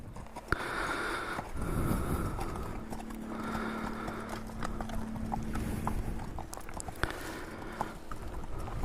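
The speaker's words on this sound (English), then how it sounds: "Good, those are beautiful horses" Horses walking on a trail, their hooves clip-clopping in an uneven rhythm close by, with a brief whinny and a few sharper knocks among the steps.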